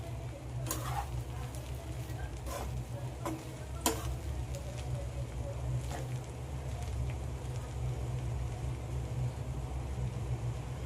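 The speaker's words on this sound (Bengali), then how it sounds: "এবার সমস্ত উপকরণগুলো দিয়ে আমি হালকা হাতে একবার মিশিয়ে নেব।" Fried rice, fried eggs and other ingredients being stirred together gently in a pan, a low steady sizzle with a few sharp scrapes and taps of the spoon near the start.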